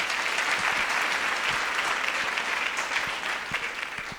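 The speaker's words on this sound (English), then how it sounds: "So I'd love to give him another round of applause because he was an exceptional." An audience claps steadily for an insurance apprentice, the sound dense and sustained without pause.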